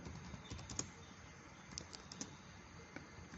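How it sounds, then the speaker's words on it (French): Light, quick typing on a computer keyboard, irregular clusters of soft key taps, close and quiet. "tapez au clavier avec moi"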